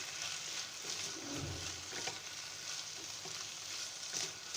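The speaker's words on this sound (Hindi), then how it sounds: "बस 1 से 2 मिनट हम इसको और फ्राई करेंगे।" Chicken pieces with capsicum fry in a pan, giving a soft, continuous sizzle at low volume, stirred occasionally, with no one speaking.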